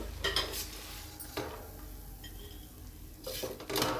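A spoon scrapes and clatters against a pan as dill and lentil bhaji is scooped out, with a faint sizzle underneath and a few louder clinks near the start and end.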